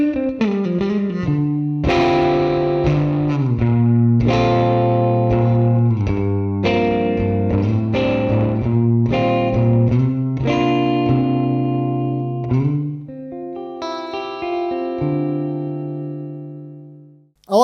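A headless electric guitar played with a mellow, vintage-style clean tone: sustained chords and single notes ring out alone at a steady, fairly loud level, with a short pause near the end.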